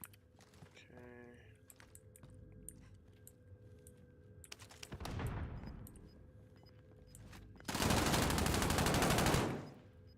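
Gunfire in a first-person shooter video game: a sustained loud burst of automatic shots near the end, preceded by a softer volley, with keyboard-like clicks and faint game noise throughout.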